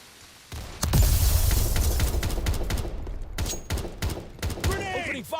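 Heavy gunfire in a competitive shooter match, with bursts of rapid shots and sharp cracks throughout, loud and close, layered under shouted player talk.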